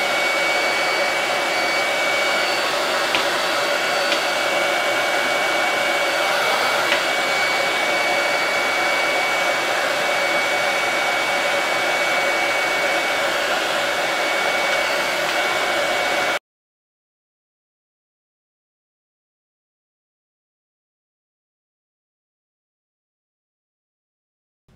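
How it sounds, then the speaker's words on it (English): A heat tool warming a WoodUBend wood decor piece blows with a steady, loud, airy hum like a hair dryer for about sixteen seconds, then cuts off abruptly into silence. "I'm going to grab my heating tool"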